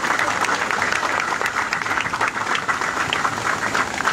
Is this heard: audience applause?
yes